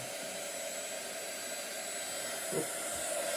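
A hair dryer blows steadily on a satellite LNB cap, giving a continuous close whooshing drone with a faint shift near the end and no speech.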